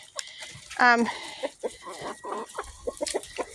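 A rooster clucks in short bursts with a brief squawk, close by, amid barnyard bustle and a person talking.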